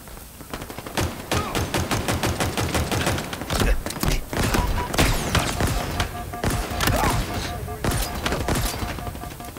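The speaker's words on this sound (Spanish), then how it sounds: "Disparo." Rapid bursts of gunfire from the video game Halo Infinite, loud and close, with dense overlapping shots and heavy thuds filling the clip.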